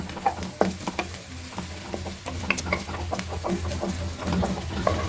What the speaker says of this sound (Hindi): अब कढ़ाई में एक चम्मच ऑयल डाल के एक प्याज बारीक किया हुआ चॉप वो फ्राई करेंगे हल्का सा